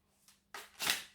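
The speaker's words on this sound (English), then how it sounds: "Sorry for the long shuffle" Tarot cards are shuffled by hand during a reading: a faint brief rustle, then a louder sustained riffling burst that swells and trails off, close and with no talking.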